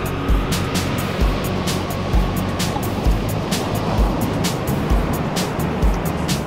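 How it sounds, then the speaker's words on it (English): Ocean waves surge onto a beach near the entrance to Brookings Harbor on the southern Oregon coast, a loud steady roar with rhythmic swells breaking roughly every second. "Beautiful beach. That's the entry to Brookings Harbor."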